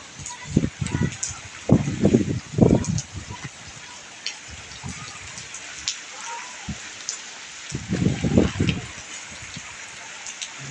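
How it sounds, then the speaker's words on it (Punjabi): Heavy rain pours in a constant hiss in Jogewal, Punjab, while someone speaks in short bursts over it. "ਫੁੱਲ ਮੀਂਹ ਪੈ ਰਿਹਾ"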